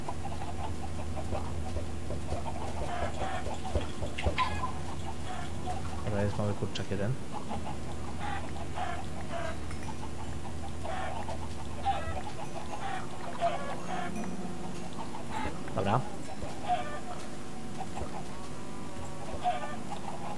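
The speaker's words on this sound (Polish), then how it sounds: "Kurde, kura uciekła jedna. Łap kurę." Chickens cluck in the Minecraft video game, repeated short clucks over a steady game background while someone talks in Polish.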